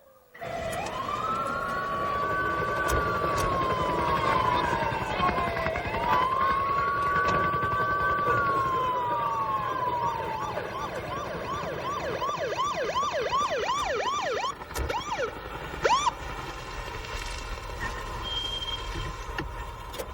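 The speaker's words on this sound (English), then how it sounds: "Did you hear that? Sounds like sirens." Sirens wail with rising and falling sweeps, followed by a rapid yelping pattern, loud and continuous, with traffic rumble underneath.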